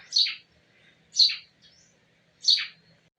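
A noisy bird chirps three times in a clear, evenly spaced pattern, each call a sharp, bright tweet standing out against near silence.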